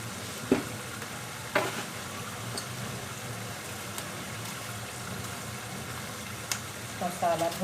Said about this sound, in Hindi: देखिए मसाला भून रहा है।